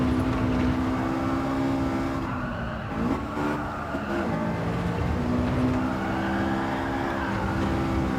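A Honda S2000 in Gran Turismo 7 holds full throttle, its engine a steady high-pitched wail that dips briefly mid-run before climbing again, loud and close throughout.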